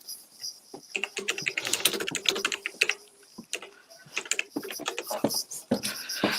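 Rapid irregular clicking of keys on a computer keyboard, close and fairly loud, with bursts of fast typing and short pauses and no talking.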